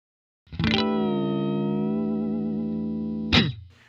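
Electric guitar through an effects unit, miked, from a Fender American Vintage 2 Jazzmaster with an off-Kiltertron bridge pickup: one loud sustained chord rings clean and steady with shimmering harmonics, then a second strum cuts in near the end.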